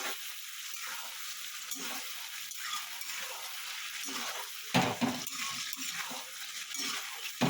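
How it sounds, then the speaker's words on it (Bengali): Rui fish chilli fish mixture fries in a pan with a steady, close sizzle, broken by repeated scraping and stirring strokes. "এটা দিয়ে আমি একটু ভালো মতন ভাজা ভাজা করে নেব"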